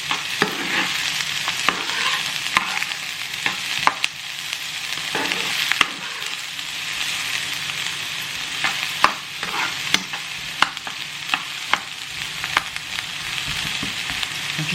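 Jackfruit and pepper fry in a pan for vegan Chinese fried jackfruit, a constant close sizzle broken by frequent clicks and scrapes of a utensil stirring, with no talking.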